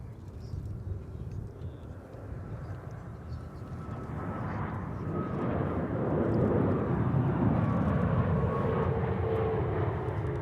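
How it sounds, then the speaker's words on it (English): Boeing 787 Dreamliner arriving from Paris at Dallas/Fort Worth Airport, a distant airliner engine roar that slowly builds and holds as it passes, with no talk. "Oh, Dreamliner from Paris."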